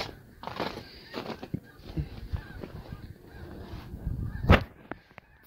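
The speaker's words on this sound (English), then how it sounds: "Here's some more of those snow geese" Snow geese honking in an open field, scattered calls from a flock with one loud nearby honk standing out among fainter distant ones, over a low outdoor rumble.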